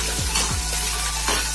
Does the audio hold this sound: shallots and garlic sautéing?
yes